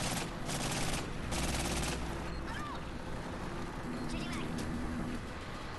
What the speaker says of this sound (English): Eat pistol shots!